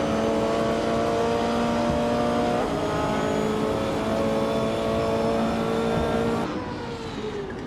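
Race cars in the GTE class, including a 2019 BMW M8 GT on pole, roar off the line at Sochi Autodrome, a dense, loud blend of engines revving with sustained droning harmonics before the sound drops off abruptly near the end.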